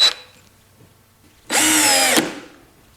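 A DCA 20V cordless drill with a keyless chuck gives a short whir at the start, then after a pause runs for about three-quarters of a second with a loud, close, high-pitched motor whine.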